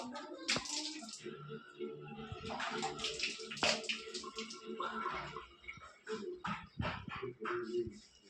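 Cold water splashes as a face is washed, in irregular bursts of pouring and sloshing, close by and fairly quiet, with a dog's short whimpers and barks mixed in.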